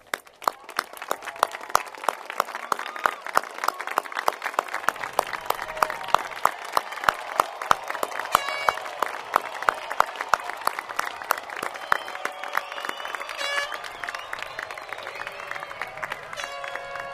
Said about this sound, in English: please stand for a big thank you and a round of applause